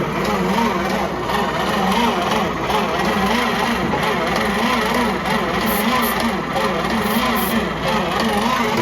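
A 1950s California Jeep engine runs steadily after starting, a loud, continuous idling rumble close by with no breaks.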